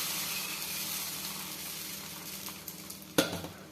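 Barley rice uttapam batter hits an oiled dosa griddle, a soft continuous sizzle close by with a few small scrapes and one sharp clink of the ladle near the end.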